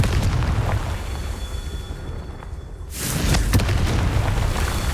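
A Confringo fire spell bursts in the game Hogwarts Legacy, a sudden loud explosive whoosh partway through that swells into a sustained roar over a dense, rumbling game soundscape.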